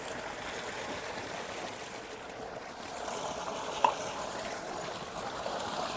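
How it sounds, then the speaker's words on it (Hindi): An electric motor pump runs water into a large, heavy clay pot, giving a steady, even rushing and trickling stream with a couple of faint clinks and no talking. "मोटर हमारी जो है वो चल चुकी है और अभी मैं घड़ा भी भर लेती हूँ।"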